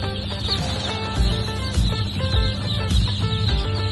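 Newly hatched Sasso chicks peep steadily in a busy chorus of many close, high chirps, with no talking.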